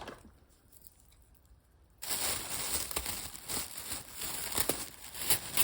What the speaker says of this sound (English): I'm just going to cut it open.